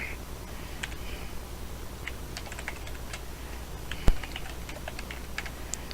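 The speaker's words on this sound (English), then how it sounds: "We have to type in the email address twice just to ensure that it's proper." An email address being entered on a computer keyboard: quick, close, light key taps in irregular bursts over a faint hum, with one sharper louder keystroke near the end.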